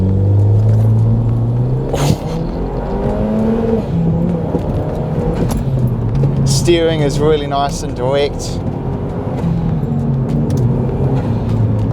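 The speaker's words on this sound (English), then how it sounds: "The turbo noises are just so good." Toyota Caldina GT-Four N package turbo engine rumbles steadily from inside the cabin while driving, with whirring and shifts in revs under someone talking.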